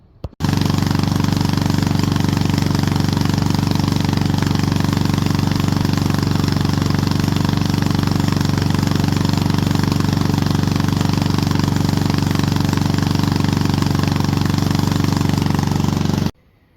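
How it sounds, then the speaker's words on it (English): A cast iron Briggs & Stratton small engine runs steadily and loudly up close for about sixteen seconds, a constant pulsing drone that cuts off abruptly at the end. "I'm going to tune this off camera and then we'll let it run for a while and make sure it doesn't get hot again."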